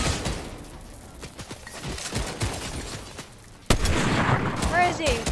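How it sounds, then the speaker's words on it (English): Fortnite gunfire crackles in quick bursts, moderately faint behind the chatter of players talking, with a louder burst of shots near the end. "They're shooting at us."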